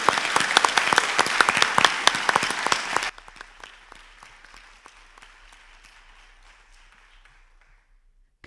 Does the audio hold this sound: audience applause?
yes